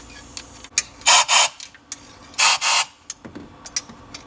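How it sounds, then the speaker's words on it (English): Two loud, close bursts of compressed shop air hiss into the spark plug well of a Ford 6.2 engine, each lasting about half a second, with faint clicks and handling noises between them. "take some shop air and just blow it into the spark plug well"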